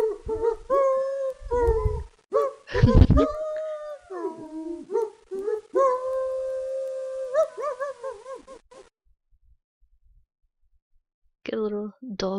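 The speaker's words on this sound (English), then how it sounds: "Get a little dog interlude there." A dog howls in the video game Zero Zero: a series of long, wavering, tonal howls and yips close up, broken by short pauses, fading to silence before a final brief howl.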